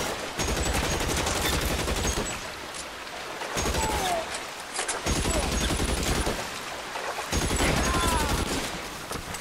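Gunfire in the video game LA Noire, fired until the ammunition runs out: loud, dense, continuous bursts of shots with a few brief dips in intensity, no voices.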